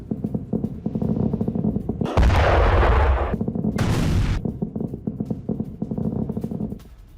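Two heavy, booming blasts a second apart rise over a steady low rumble, explosions heard in Bahrain, with no voices.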